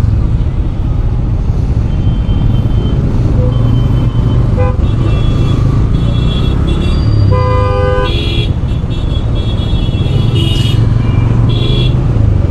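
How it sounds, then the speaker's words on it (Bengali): Traffic streams along the 300 Feet Purbachal highway expressway: bikes, cars, buses and trucks rumble past continuously, with several car horns tooting in short bursts over the loud, steady road noise. "মানে বাইক, প্রাইভেট কার, বাস, ট্রাক, মানে কোনোটারই কমতি নাই।"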